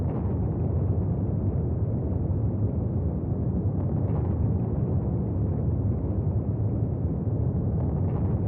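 A volcanic eruption sound effect depicting a giant eruption from the Kobayashi caldera in the Kirishima volcanic area: a dense, unbroken low roar that holds steady and loud throughout.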